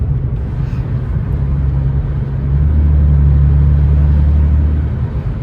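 A 2016 Hyundai Genesis Coupe 3.8 cruising a highway on a cloudy day produces a loud, steady low engine and road drone inside the cabin, swelling slightly partway through.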